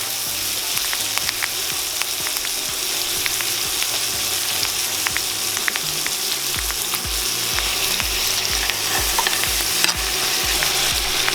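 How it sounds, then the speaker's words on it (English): A New York steak sizzles loudly in a hot cast iron pan while butter with thyme and crushed garlic is spooned over it, a steady frying hiss with soft clinks of basting throughout. "We're gonna hit it with our thyme and our crushed garlic, and we're gonna baste this steak."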